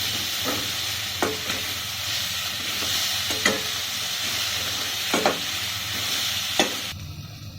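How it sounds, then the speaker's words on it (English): Onion sizzling loudly in a hot pan with steady frying hiss, punctuated by periodic stirring scrapes every second or so, close up. "If you are adding salt to the onion while sauteing,"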